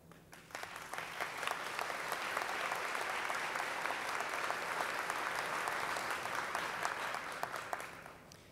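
Audience applause fills a university commencement ceremony hall, a dense crowd clapping that swells quickly and holds steady for several seconds before fading.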